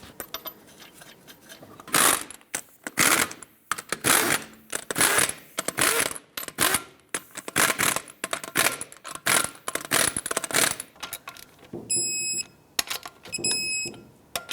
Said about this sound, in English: Start on all 5 of your lug nuts, bottom them out, torque them to 76 foot-pounds.